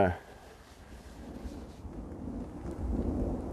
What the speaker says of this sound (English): oh, more thunder.